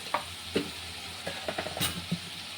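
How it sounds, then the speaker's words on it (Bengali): A spice paste is stir-fried with potatoes in a pan, giving a low sizzle under scattered scrapes and knocks from a spatula. The sounds are close and uneven, with no speech. "বন্ধুরা, এইভাবে মশলা আমার কষানো হয়ে গেছে"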